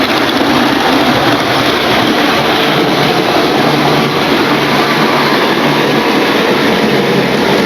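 A model railway train runs steadily on its layout track, a constant dense rumbling rush of wheels and motor that stays level and close throughout with no pauses.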